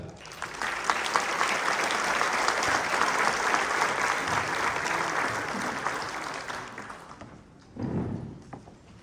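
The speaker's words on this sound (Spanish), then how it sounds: "Recibámosla con un fuerte y caluroso aplauso" An auditorium audience claps warmly to welcome a keynote lecturer, dense applause holding steady then fading out, followed by a brief low thump near the end.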